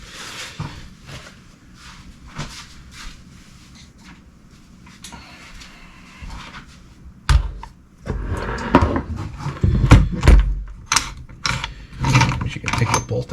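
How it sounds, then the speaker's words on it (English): Metal parts of an FAL rifle clack and click as the two halves of the gun are fitted back together, with scattered close mechanical knocks that grow louder and busier in the second half, no voices. "now we can mate the two halves of the gun back together"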